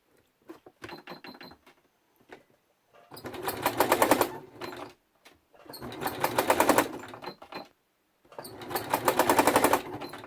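Sewing machine stitching free motion embroidery of grasses, rapid rattling bursts in three long runs separated by short pauses, close and clear with no talking.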